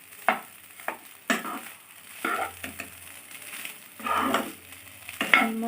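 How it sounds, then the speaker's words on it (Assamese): Assamese-style fish roe fries in a pan, stirred with a spatula in several distinct scraping strokes over a soft, low sizzle, each stir a short rough burst with quieter gaps between. "এয়া মাছৰ কণী ভাজি"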